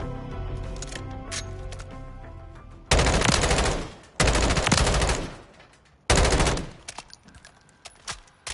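Automatic gunfire in the MWZ video game: three loud, close bursts of rapid shots, each about a second long, follow a quieter stretch of game sound, with scattered single pops trailing afterward.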